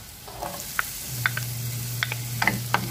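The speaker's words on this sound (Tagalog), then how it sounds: "Gisa lang natin at least 2 minutes para lumabas yung kanyang lasa" Garlic and onion sauté in melted butter with a soft, even sizzle, while a utensil knocks and scrapes against the pan in several sharp clicks. A low steady hum runs underneath.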